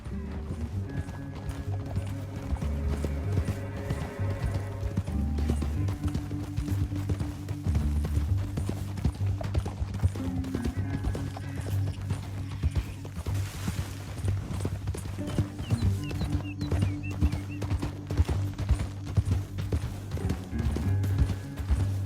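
Horses galloping through a canyon in Red Dead Redemption 2, the hoofbeats running steadily under a game soundtrack with occasional distant gunfire, at moderate loudness and without speech.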